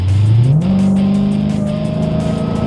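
A steady high-pitched belt-driven supercharger whine rises and holds above a deep engine rumble as a 2017 Dodge Challenger Hellcat revs at part throttle, close and loud.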